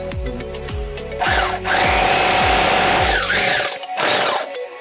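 A double needle bag closer sewing machine stitching a sack: rapid mechanical clatter starts in short bursts, then settles into a steady loud whirring run with a high whine, briefly pausing and resuming before stopping.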